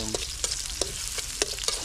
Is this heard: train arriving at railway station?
no